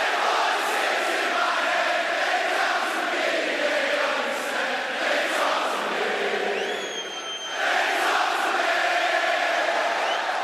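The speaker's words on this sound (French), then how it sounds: "les acclamations du public, les gens qui chantent son thème" A large wrestling arena crowd in London cheers loudly and sings along to Randy Orton's entrance theme, a dense sustained roar with rhythmic chanting that dips briefly and then surges back.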